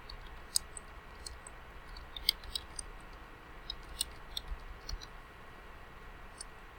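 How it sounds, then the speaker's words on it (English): Computer keyboard keys tapped while entering a journal title into a library catalog search, a sparse series of light clicks and taps over a quiet background. "you type in the title of the journal"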